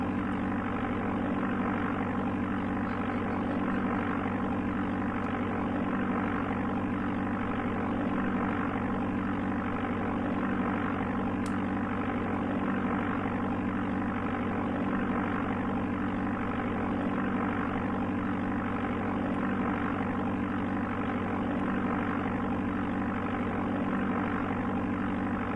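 Steady, continuous drone of a small propeller aircraft engine in the Amiga game Flight Simulator II, held at an even level with a low hum throughout as the throttle is adjusted during descent toward a runway.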